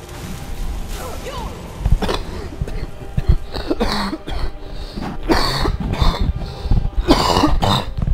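Several coughs and throat-clearing bursts from a person playing The Elder Scrolls V: Skyrim Dragonborn, spread across the stretch, close and fairly loud over faint game sound.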